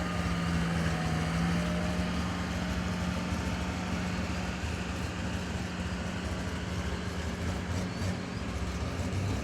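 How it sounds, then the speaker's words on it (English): A 9500 Turbo class tractor roars at a tractor pull at the Lawrence County Fair, its engine a loud, steady, unbroken drone with no voices over it. "Stay tuned, folks, for this 9500 Turbo Tractor class."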